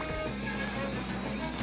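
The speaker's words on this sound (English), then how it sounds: "Half of the dopamine in this thing is hearing that engine roar." A vehicle engine in the Splatoon 3 video game gives a steady, dense roar, loud and unbroken, with no speech over it.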